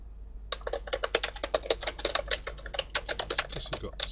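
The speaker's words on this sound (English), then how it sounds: "Sorry about the loud typing." Rapid, uneven clatter of computer keyboard typing, fairly close and loud, with a steady low hum underneath.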